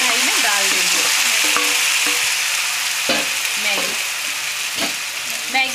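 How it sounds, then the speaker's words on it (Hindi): Maggi noodles dropped into hot salted oil in a kadhai sizzle steadily and loudly up close, with scraping stir strokes and a few sharp clinks of the spoon against the metal. "अब हमारा ऑयल गर्म हो चुका है, और हमने इसमें पहले ही नमक लगा लिया था, तो अब हम मैगी को कढ़ाई में डाल देंगे।"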